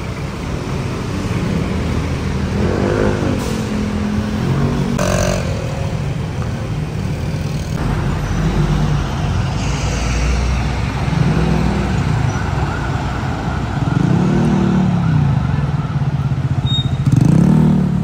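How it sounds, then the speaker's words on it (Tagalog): Road traffic on EDSA below the SM North busway station: a continuous, moderately loud roar of cars and motorcycles passing, with occasional engine swells and clatter. "Kita mo naman traffic sa baba, di ba?"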